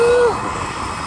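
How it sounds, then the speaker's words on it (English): A steady broadband roar from a passenger airplane engine in flight, heard from inside the cabin, loud and continuous, with a brief falling whistle-like tone at the start. "I decided to catch a plane to Manta."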